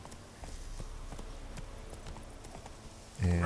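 The horse Roach gallops in the video game Witcher 3, with steady rhythmic hoofbeats at moderate volume over a low background, ending in a louder burst of game sound.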